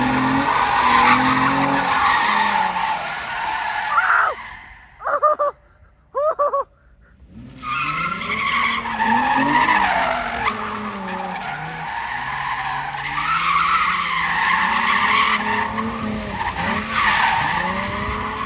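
A drift car slides with a touch of left-foot braking, its tires squealing loudly and continuously over a revving engine, with a few brief breaks in the skid before the squeal resumes.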